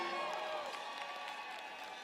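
A large keynote crowd at the Sphere in Las Vegas applauds during the Delta Air Lines CES 2025 event, a soft, distant wash of clapping with faint cheers that fades slightly toward the end.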